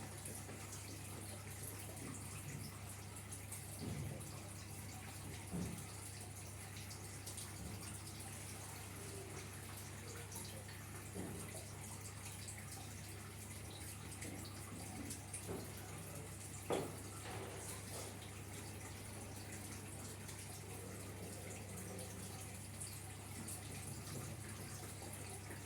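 Tap water runs steadily into a bucket at a low, even level for a sustained stretch, with a constant hum beneath and a few faint clunks, and no one talking.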